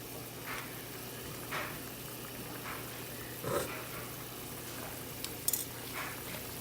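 Brown stew chicken with pimento seeds simmering in a pot, a steady low bubbling sizzle with a few soft clinks and stirring sounds, quiet and close, no talking.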